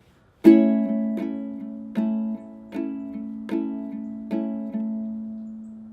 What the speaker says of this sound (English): and then we're kind of replacing our finger picking with some like rock strumming